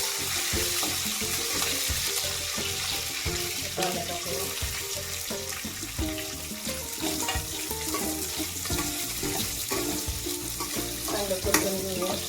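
Peanuts fry in oil in a pan for poha, giving a loud, continuous sizzle with stirring scrapes and clicks throughout.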